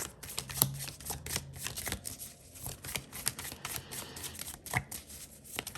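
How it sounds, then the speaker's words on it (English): Tarot cards are shuffled and drawn at close range, with a steady run of soft riffling and flicking and a few sharper snaps as cards are pulled. "Let's pull a couple of more cards."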